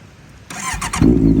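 A 2015 Honda CBR650F ABS motorcycle with an aftermarket exhaust starts up: a brief starter whir, then the engine catches and settles into a loud, deep, close idle.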